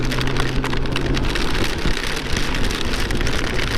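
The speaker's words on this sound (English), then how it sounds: "rain." Steady rain beats down close and loud in a dense, continuous patter outdoors while the sun is still out, with a brief low engine-like hum under the first second.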